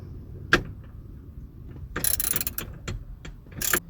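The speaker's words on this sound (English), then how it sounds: "we're going to undo the last 3rd bolt now from here, and it's important to have this extender" A ratchet with an extender works a seat bolt on a Dodge Grand Caravan, giving a sharp click near the start, then a rapid burst of ratcheting clicks and a few scattered metallic ticks close by.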